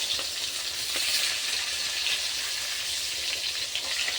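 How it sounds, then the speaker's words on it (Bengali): Fish sizzling steadily as it fries in a pan, a bright continuous hiss with small pops and crackles throughout, close and even, with no voices. "তো চলো মাছটা ভেজে নিই"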